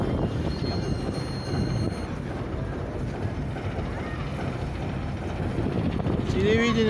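Steady rumbling of a passing train, close and continuous, with a brief squeal near the end.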